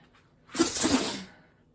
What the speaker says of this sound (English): I think she just had a bit of a sneezing fit.